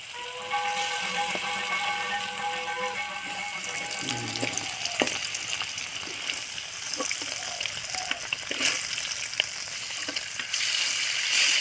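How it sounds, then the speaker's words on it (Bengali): Paneer cubes frying in oil in a pan, cooked in small batches, give a steady close sizzle, with bursts of running tap water and the clink of utensils partway through. "একসাথে সব পনিরগুলো ভাজবো না দুবারে কিছু কিছু করে ভেজে নিচ্ছি"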